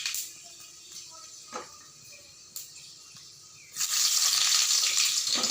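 Panch phoron spices spluttering in hot oil, a few faint pops at first, then a loud, close, continuous hissing sizzle that starts suddenly and holds steady.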